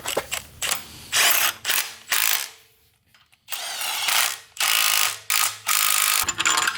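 Ratchet wrench clicking in repeated loud bursts while torquing down bolts on a transmission adapter plate, with short pauses and a near-silent gap between runs.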